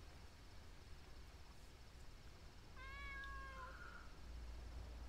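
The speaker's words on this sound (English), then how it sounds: "Momo's meow." A cartoonish cat meow from the video game Dave the Diver sounds once, a short tonal cry over a faint steady game background hiss, with no talking.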